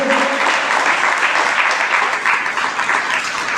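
Audience at a Jain sermon class clapping together, a dense, sustained burst of applause that stays loud and even throughout, with no voices.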